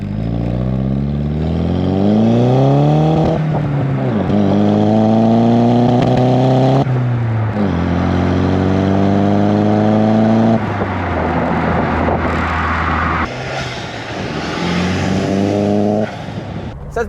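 A boosted Mk1 Golf show car accelerates hard through several gears, its engine rising loudly in pitch, dropping at each shift and climbing again, with the car heard close up throughout.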